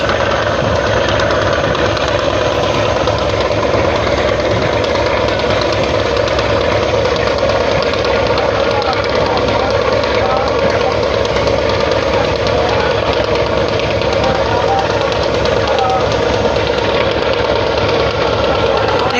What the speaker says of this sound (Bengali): আর কুয়াকাটা 1 লঞ্চটি দর্শক দেখতেই পাচ্ছেন সে কিন্তু গতির টান বাড়িয়ে দিয়েছে